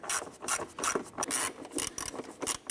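Screws being driven into the air filter lid of a 2009-2015 Honda Pilot, giving close, continuous scraping and rasping with uneven bursts and no talking.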